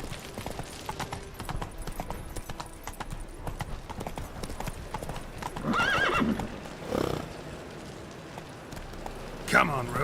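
The horse Roach in Witcher 3 clip-clops along at a steady gait, with hoofbeats throughout, two loud neighs in the second half and game voices talking over it.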